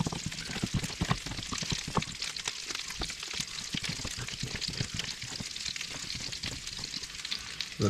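Baby potatoes fry in a pan with plenty of butter and oil, giving a constant crackling sizzle broken by sharp pops and the scrape of stirring, close up and without talk.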